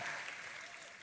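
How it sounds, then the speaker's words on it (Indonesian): Church congregation claps enthusiastically during a service, a dense burst of applause from the crowd that stays fairly steady and slowly tapers over about a second. "Tepuk tangannya pula yang paling meriah."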